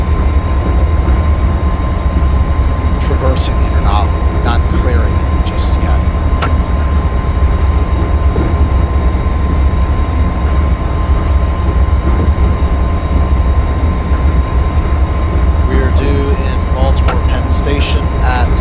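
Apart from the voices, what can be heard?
MARC Penn Line commuter train running through interlocking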